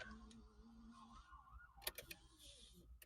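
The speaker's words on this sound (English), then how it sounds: "What's that? An ambulance, probably." A faint ambulance siren wails far off in a city street, its pitch sliding slowly over low traffic rumble, with a few sharp clicks partway through.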